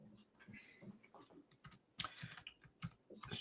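Quick keyboard typing, a flurry of soft clicks and taps, close but faint in a quiet podcast studio, with no voices.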